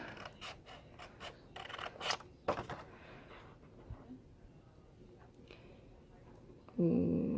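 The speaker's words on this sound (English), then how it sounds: "Again, cutting on the score line. Cut this whole rectangle out." Scissors snip through paper along a score line to cut out a rectangle for a keepsake box, with a quick run of close, crisp cuts early on, then quieter scraping and a brief thump near the end.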